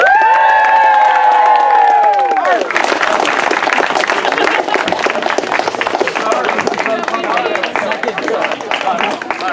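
A theatre audience at a comic Macbeth performance erupts in loud, sustained cheering and applause, following a brief shouted group call at the start, with the dense crowd noise filling the rest of the moment.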